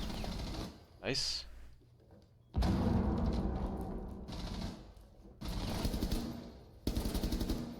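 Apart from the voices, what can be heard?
gunfire in Rainbow Six Siege video game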